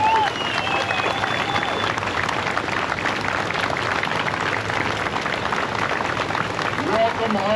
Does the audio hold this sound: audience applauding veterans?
yes